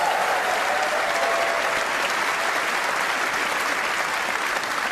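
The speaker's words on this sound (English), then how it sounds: "Please give them a round of applause, ladies and gentlemen." Crowd at the BAFTA Games Awards in London applauds a choir, a dense, even wash of clapping from a large hall audience, loud and unbroken throughout.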